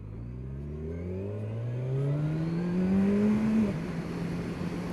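A Kawasaki Ninja 1000SX engine revs up hard, rising steadily in pitch with quick-shifter gear changes breaking the climb, loud and close throughout.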